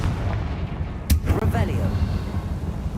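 A Confringo fire spell explodes in the video game Hogwarts Legacy, one sudden sharp blast followed by a rumbling tail over a low ambient bed.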